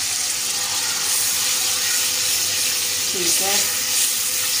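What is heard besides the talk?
yogurt added to frying masala, sizzling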